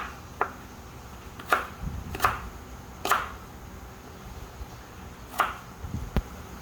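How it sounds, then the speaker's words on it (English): Knife chopping apple into small bits on a cutting board, sharp isolated taps spaced about a second apart, close and clear in a quiet kitchen. "Now I'm cutting the apples into small"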